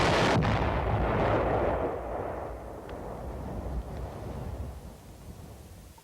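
Explosive charges such as Bangalore torpedoes or cratering charges destroying an enemy tunnel, one loud deep blast that rolls off into a long fading rumble, with no talking.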